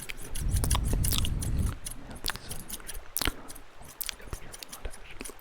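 Metal haircutting scissors snip close to the mic, starting with dense rapid snipping and then giving way to sparser, crisp individual snips with soft handling sounds between them.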